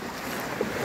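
Floodwater spills over a completely overflowed klong in Phuket Town like a waterfall, a steady broad rushing wash with a gusty, wind-buffeted edge, loud and close throughout with no talk.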